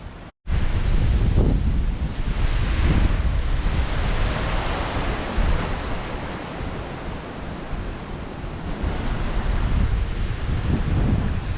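Strong hurricane wind roars continuously during a storm surge, a loud, buffeting rush with gusts battering the microphone, mixed with the wash of rising water and no voices.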